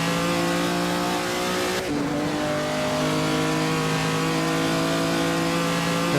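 A 1948 race car in Assetto Corsa accelerates hard, its engine holding a loud, steady, harmonic-rich drone with a brief shift in pitch partway through.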